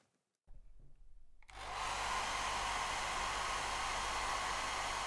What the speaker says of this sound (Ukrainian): Увімкнемо силу, але в нашому випадку це буде фен.